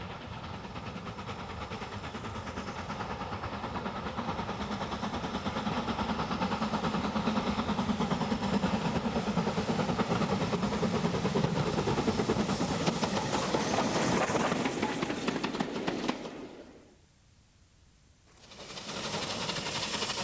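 A steam train running on the Swanage Railway during its annual steam gala, a continuous rolling rumble with rhythmic clatter building steadily, then a sudden brief drop to near silence before the noise resumes.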